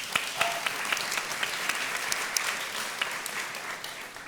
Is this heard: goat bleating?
no